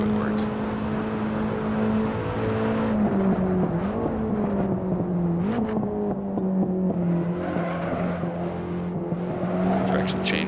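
A BMW E30 M3 lapping Monza in Assetto Corsa, engine droning loud and steady with pitch dips and climbs through gear changes, a voice talking over it.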